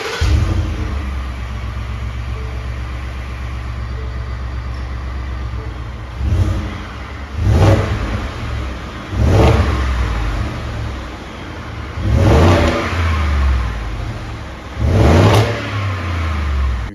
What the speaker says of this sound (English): I did want to take just a little bit of video here real quick of what the stock exhaust sounds like